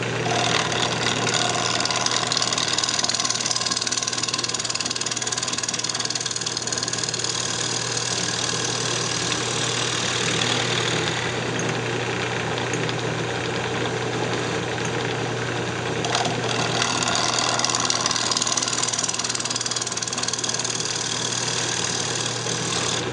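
A wood lathe spins a natural edge bowl while a round nose scraper cleans up the inside, giving a steady, close, continuous whir and scraping hiss with no pauses.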